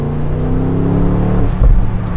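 A BMW M850i Cabrio V8 revs with a deep, steady engine drone played through the car's cabin speakers, swelling slightly louder near the end of the short stretch.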